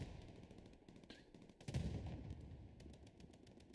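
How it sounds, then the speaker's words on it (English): Machine gun fire in Hell Let Loose crackles as faint, distant bursts of rapid shots amid a quiet battlefield ambience, with a louder burst partway through. "machine gun fire from the backside doing work"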